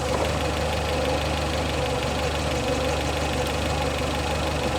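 A Porsche 924 engine idles steadily up close, a continuous low rumble with a slight knocking vibration and no speech over it.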